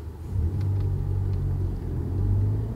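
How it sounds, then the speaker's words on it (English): A 2018 Honda Civic Type R pulls away with a low, steady engine rumble that holds close and even for a few seconds. "2018 Civic Type R. Well, let's take it for a spin."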